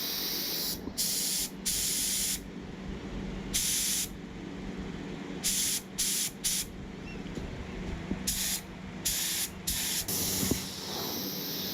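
A Harbor Freight HVLP spray gun sprays Rustoleum paint in repeated hissing bursts of a second or so each, separated by brief pauses, close and fairly loud over a low background hum.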